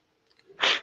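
A single short, sharp sneeze bursts out close by after a faint intake of breath, isolated against near silence.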